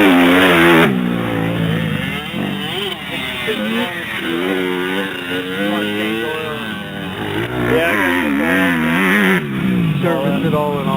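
A 150cc dirt bike being ridden past another rider, its engine revving and changing pitch through gear shifts throughout, loud and near, with a person talking over it.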